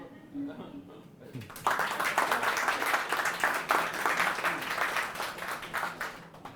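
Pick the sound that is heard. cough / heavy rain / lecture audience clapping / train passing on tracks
lecture audience clapping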